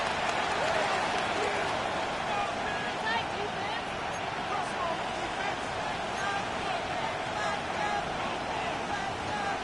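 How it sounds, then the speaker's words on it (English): Steady roar of a stadium crowd in the Madden 26 football game, a dense wash of cheering and babble holding at an even level throughout, with commentary over it. "This crowd is making it tough down deep in the red zone."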